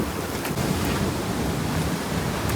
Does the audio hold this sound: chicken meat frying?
no